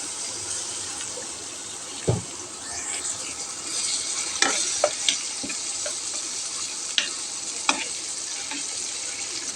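Chopped onion, garlic and dried chili fry in soybean oil in a karai, a steady crackling sizzle punctuated by several distinct knocks and scrapes of a spoon stirring.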